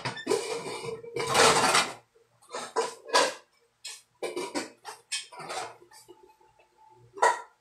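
Cooking pots clatter and clang in a busy run of metallic knocks and scrapes, loud and close, with short pauses between handling bursts.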